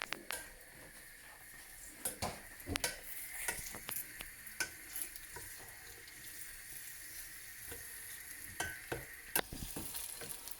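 Homemade pizza sauce simmering in a pan while it is stirred, with steady close sizzling and a scraping stir, plus sharp clinks and knocks of the utensil against the pan scattered throughout.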